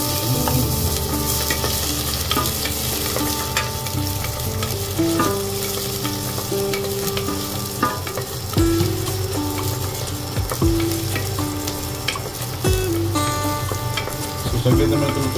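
Garlic fries in hot oil with a steady, close sizzle, joined by occasional stirring scrapes and a faint tonal hum in the background.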